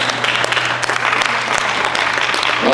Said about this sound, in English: A smattering of applause for the mayor.